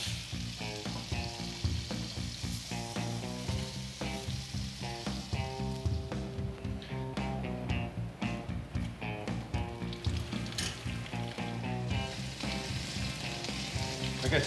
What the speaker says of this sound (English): We want to hear a nice little sear.